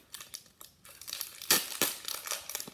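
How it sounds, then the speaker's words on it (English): A hard plastic bag from a Treasure X Aliens toy is cut open, giving close crinkling and crunching rasps in short uneven bursts with no voices. "the bag is harder, so I think I am just gonna have to cut it open"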